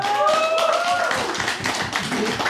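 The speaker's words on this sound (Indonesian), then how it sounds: "Tepuk tangan dong." Audience at an Islamic religious talk claps in scattered bursts, uneven and close, while tonal voices and laughter rise over the clapping.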